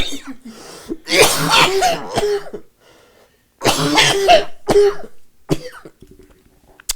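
Several harsh, close coughing fits, each a burst of rough hacks, separated by a short quiet gap.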